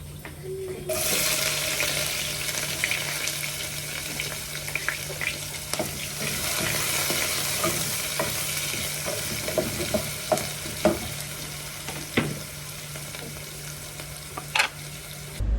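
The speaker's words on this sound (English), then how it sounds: "we'll add our onions, and we'll cook up the onions" Onions sautéing in a pan with dry spices, a steady close sizzle running throughout with scattered clinks and scrapes of stirring, no voices.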